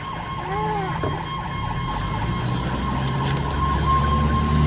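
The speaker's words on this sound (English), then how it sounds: "Look at them police car stuck" Police car sirens wailing in the distance on a busy Kingston, Jamaica waterfront road during New Year's fireworks crowds, a rising-and-falling tone sitting faintly over steady traffic and crowd rumble.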